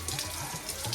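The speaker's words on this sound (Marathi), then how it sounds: "इकडून पूर्ण पाणी हे गायमुखातून येतं. हे पूर्ण झरा आहे." Spring water from a stone cow-mouth spout at a hillside temple in Sangameshwar, Ratnagiri flows in a steady, close splashing rush with no pauses.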